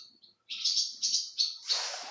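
Birds, pigeons among them, chirp and tweet in a run of high, bright calls in an abandoned building, first two short faint notes, then three loud close bursts and a rougher, noisier flurry at the end.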